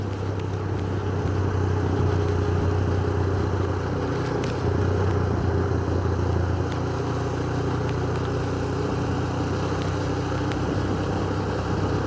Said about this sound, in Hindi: आज मैं बाइक में आया हूँ